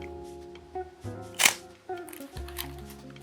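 A Minolta SRT101 film camera with a stuck mirror and shutter fires a single sharp shutter-and-mirror clack at a slow speed, close and crisp. Faint handling sounds and a low background hum surround it.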